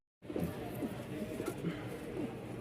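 Nine fancy pigeons kept for sale, some babies and some runners, coo softly in repeated low calls while people talk quietly nearby.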